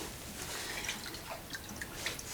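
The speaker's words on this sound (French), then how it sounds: "Normalement je commence par juste mettre un peu d'eau froide pour qu'il sache ce qu'on fait." A little cold water poured over an animal during a care session gives soft, scattered splashes and drips, fairly quiet and close, continuing steadily for a couple of seconds with no talking.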